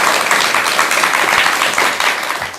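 An audience applauds Dr. Jeon Jae-seong in a studio setting, a steady wash of many hands clapping at close range for a few seconds.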